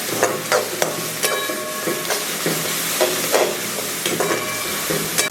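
Tomato and masala sauté in a pan for a yam and chana dal curry, with a steady close sizzle broken by repeated scraping and stirring strokes of a spoon, and no talking.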